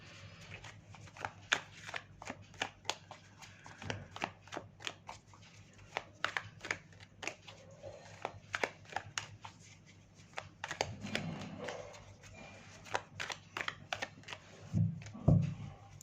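Tarot cards handled, shuffled and drawn for a reading, with a steady run of crisp card flicks and slides up close, quiet and alone, a thumping handling sound near the end.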